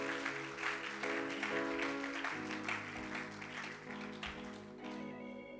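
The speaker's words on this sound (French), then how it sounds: "Acclame pour le Seigneur." A church congregation applauds for the Lord, dense steady clapping over sustained organ or keyboard chords for several seconds, fading slightly toward the end.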